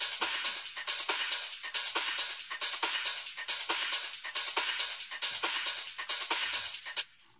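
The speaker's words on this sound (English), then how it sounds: "So all percussions all together would sound like this." Layered electronic percussion from a trance production plays together in a steady, driving loop: regular hits carry bright, hissy cymbal texture and an offbeat hi-hat, fairly loud and close with no voices, before cutting off abruptly near the end.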